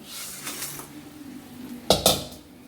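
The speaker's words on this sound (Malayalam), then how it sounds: "ഇനി ഇത് തുറക്കാം, ഞണ്ട് നമുക്ക് ഇട്ട് കൊടുക്കാം" A pan lid clatters open and small egg-bearing crabs tumble into a pot of softened tomatoes for crab curry, giving two sharp close metallic clanks over a faint low sizzle.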